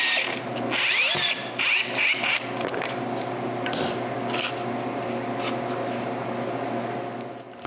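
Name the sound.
power drill drilling a pilot hole in wood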